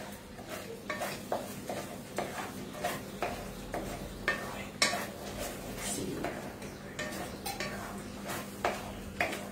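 Tomatoes and cashews stirred in a pan, with a spoon scraping and tapping the metal in a steady rhythm over a soft, continuous sizzle, moderately close and alone.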